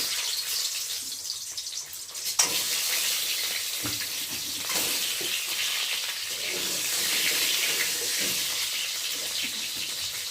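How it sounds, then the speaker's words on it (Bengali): Eggs dropped one by one into hot salted oil crackle and sizzle in a steady bright hiss, with a couple of sharper spits and pops along the way. "এখন আমি একে একে ডিমগুলোকে দিয়ে ভেজে নেব"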